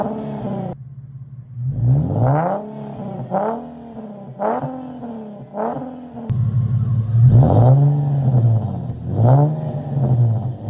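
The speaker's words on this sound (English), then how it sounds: "I have a muffler delete with 4-inch exit tips right now" An Infiniti G37 with a muffler delete and 4-inch exit tips revs repeatedly in short bursts, a deep throaty roar rising and falling with each blip, loud and close, with no talking.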